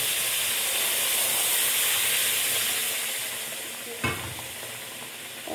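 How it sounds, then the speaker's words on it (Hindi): Besan halwa is stirred in a pan as jaggery syrup goes in, making a loud continuous hissing sizzle that eases slightly toward the end, with one clear scrape or clatter near the close and no talking. "इसको मुसलसल चलाना है हमें, गुठलियाँ नहीं होनी चाहिए हलवे में"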